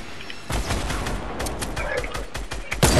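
Rapid gunfire in a video game, a burst of quick shots crackling close and loud over a few seconds, with a faint voice in the background.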